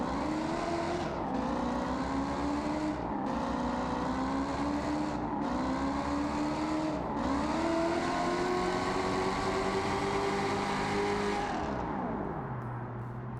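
A 1965 Ford Mustang Boss 302 engine in BeamNG Drive revs hard on nitrous, loud and close. It climbs through repeated rising pulls, each cut by a brief drop, then winds down at the end.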